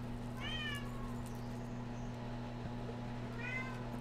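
A cat meows twice in a modded survival game, short rising-falling calls about three seconds apart over a steady low mechanical hum.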